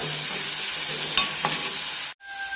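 Chopped green chilies and onions sauté in a pan, giving a loud, steady frying hiss with a couple of stirring scrapes and a sudden brief cut near the end.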